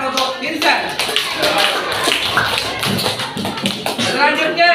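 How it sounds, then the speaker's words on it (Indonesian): Schoolchildren clap for a classmate in a classroom, a loud, close, uneven burst of small hands with taps and shuffling, while voices chatter over the clapping throughout. "Ya, tepukan untuk Mirza."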